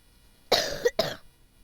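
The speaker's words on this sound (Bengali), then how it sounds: "কাশি হয়েছে।" A person coughs twice in quick succession, close and clear against a quiet background, with nobody talking.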